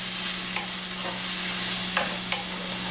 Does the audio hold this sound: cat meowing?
no